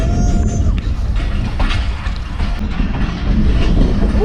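The 12DN Hazara Express passenger train runs near Multan Cantonment, a loud, close rumble with rhythmic clickety-clack of wagons over rail joints and a brief high squeal.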